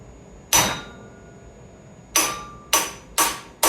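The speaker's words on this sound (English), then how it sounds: "there's also this tool you can use, which is like a hammer drill." A hammer drill strikes motorcycle fork tubes on a Harley Dyna: four sharp, loud metallic impacts, one alone and then three in quicker succession, each with a bright ringing decay over a quiet background.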